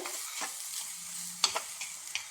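Close scraping and clinking of a utensil stirring taro stems and prawns cooking in a pan over a steady sizzle, with a few sharp taps against the pan.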